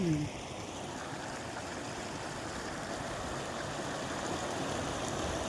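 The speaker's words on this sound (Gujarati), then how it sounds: "કોજારામાં પાણી વહ્યું જાય એટલું પાણી આવ્યું" Water rushes steadily through an irrigation channel in a flooded farm field, making a continuous, even gush close by with no pauses.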